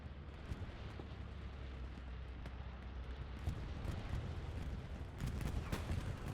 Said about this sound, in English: Another bombing run coming in. This one's coming right over Dugout Barn once again.